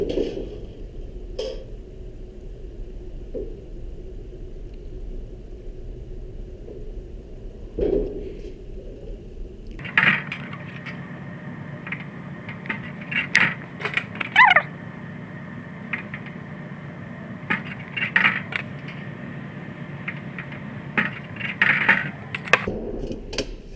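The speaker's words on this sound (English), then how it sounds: "bend the 1/4 inch marks to a 90 degrees. So let's spin over to the brake and let's put those on there." In a fabrication shop, a sheet metal brake bends quarter-inch marks to 90 degrees, with quiet handling noises giving way to a steady hum and several sharp metallic clanks and taps.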